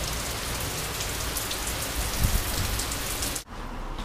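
Heavy rain pouring down during a Toronto storm, a dense continuous hiss of drops hitting surfaces up close, loud and unbroken until it cuts off abruptly near the end.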